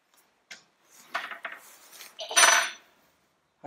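Wrench work loosening 7/16 bolts on the oil pump cover of a TED20 tractor, a few close metallic clinks and scrapes of tool on steel in short irregular bursts with pauses between.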